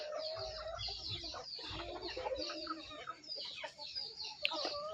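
Free-range village chickens of a local desi breed cluck and chatter in a faint, busy stream around a small poultry farm, with no voices nearby.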